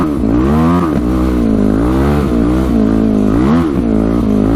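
Modded race quad engine bouncing off the rev limiter, loud close buzzing harmonics stuttering and wavering repeatedly without pause, no talk.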